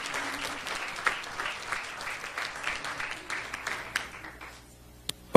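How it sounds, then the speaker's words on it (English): An audience at a youth summit event applauds warmly. A dense patter of clapping fills the room and then fades out quickly near the end. "Give her another great big round of applause."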